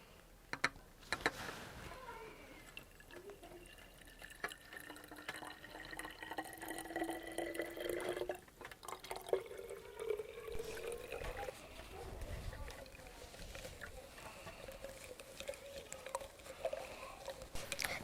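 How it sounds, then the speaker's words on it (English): Warm water is poured into copper sulphate crystals in a home chemistry setup, a steady trickling pour with small splashes and clinks running throughout. "Now we're going to add warm water to the copper sulphate to make the solution."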